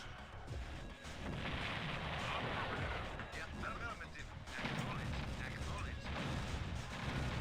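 Longbow attack helicopters strike in the Command & Conquer Red Alert strategy game, a dense, continuous barrage of gunfire, explosions and booming impacts that stays loud and busy throughout.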